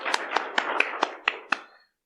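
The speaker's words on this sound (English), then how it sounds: "Everybody clap for the failure." Scattered, sparse hand claps from a small conference audience, about seven distinct claps in an uneven rhythm that then fade to silence.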